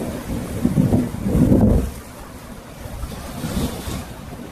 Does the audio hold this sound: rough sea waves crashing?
yes